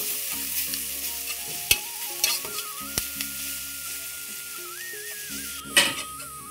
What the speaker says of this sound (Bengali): দিচ্ছি একটু গ্রেট করা গাজর, ভালো করে নেড়ে চেড়ে নিচ্ছি।